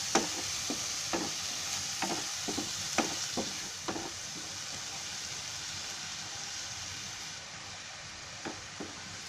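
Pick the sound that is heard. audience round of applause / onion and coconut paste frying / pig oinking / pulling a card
onion and coconut paste frying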